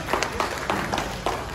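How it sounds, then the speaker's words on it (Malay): Audience at a product soft launch clapping for a guest, a short burst of applause from a crowd of people. "Berikan satu tepukan kepada dia."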